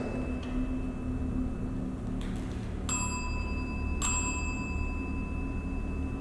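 A bell rings twice in a dim, reportedly haunted room, two bright metallic dings about a second apart, each with a long ringing decay over a low steady hum.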